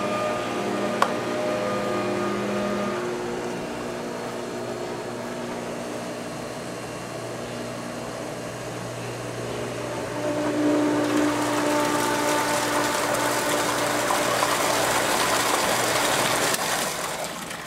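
A DE pool filter system switched on with the drain open, flushing water out; a steady pump hum and motor drone that grows louder and rushier about halfway through, with no talking.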